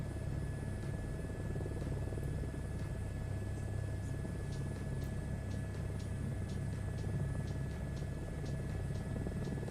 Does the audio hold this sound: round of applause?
no